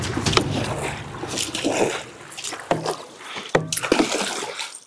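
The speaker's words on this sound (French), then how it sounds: "Hélène, Beauté Active, Théoura et Sylvain se lancent en premier dans la course en barque" Rowboats are paddled hard at the start of a race, with irregular splashes and strokes of oars in the water at close range, mixed with faint background voices and commotion.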